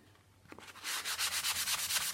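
A sanding block rubs fine grit across painted thrift store furniture, starting quiet then settling into rapid, rhythmic scratchy back-and-forth strokes, close and alone.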